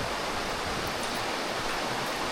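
The Rudi river (khola) rushing beneath a suspension bridge, a loud, continuous broadband roar of flowing water that stays steady and close throughout, with no speech.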